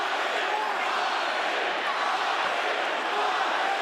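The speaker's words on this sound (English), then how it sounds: "And the capacity crowd here continuing to cheer." Dense, continuous roar from a capacity crowd at a heavyweight boxing match, a steady wash of cheering noise with no breaks.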